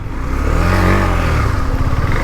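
A motorcycle engine revs loudly and steadily up close on a flood-damaged street, its rising, then settling, mid-pitched drone mixed with rattling clatter.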